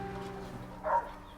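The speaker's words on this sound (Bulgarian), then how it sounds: "Това са много възрастни кучета." An old dog at an animal shelter in Sofia gives a brief, soft whimpering yip near the end, over a quiet indoor hum.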